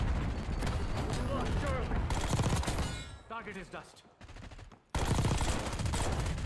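A SAUG submachine gun fires in Black Ops 6 in dense rapid bursts, close and loud, with a short gap near the middle before the fire resumes, and a voice briefly between bursts.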